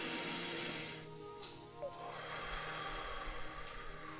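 A single long breath during a guided relaxation exercise, a soft airy exhale near the microphone that fades after about a second, followed by quiet room tone.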